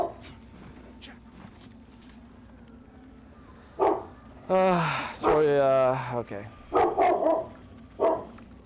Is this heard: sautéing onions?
no